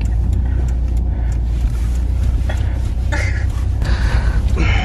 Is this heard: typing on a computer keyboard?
no